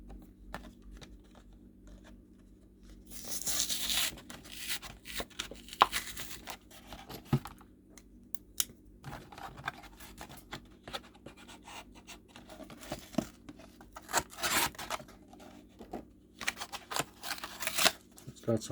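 Ripping and crinkling of stiff, thick paper packaging on a Hot Wheels Car Culture Mazda RX-3 toy car, in close, irregular bursts, with scratchy tearing strokes coming and going throughout.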